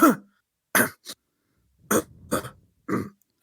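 A voice imitates coughing: a series of short, sharp coughs and throat-clearing bursts separated by brief silences, close and loud.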